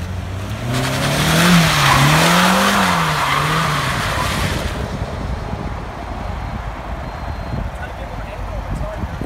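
A car drifting sends out a loud, wavering tire squeal that rises and falls for several seconds along with the engine, then gives way to a rougher, steady noise.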